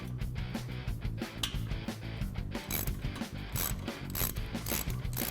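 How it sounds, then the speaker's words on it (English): A wrench ratchets with rapid repeated clicking while loosening an exhaust hanger during an MBRP exhaust system install, close and continuous throughout with no talk. "I'm going to grab a wrench and loosen that up right quick."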